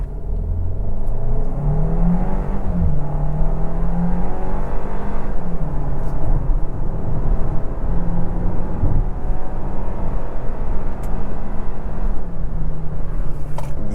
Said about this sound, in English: Sport mode for a minute. Let's try a quick 0 to 60, right? We'll go traction off.